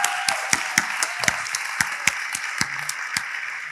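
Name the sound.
applause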